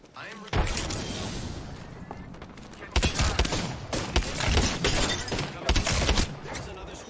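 Gunfire crackles through a video game battle, with repeated loud bursts of shots in overlapping volleys, dense and close, continuing almost without a break.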